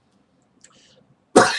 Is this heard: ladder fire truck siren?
no